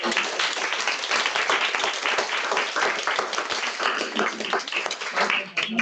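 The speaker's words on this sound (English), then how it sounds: "let's have a round of applause for us" Audience applause at a lunch-and-learn session, a dense, steady wash of many hands clapping that holds at even volume for several seconds, with no voice over it.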